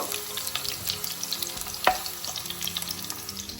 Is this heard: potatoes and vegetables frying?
yes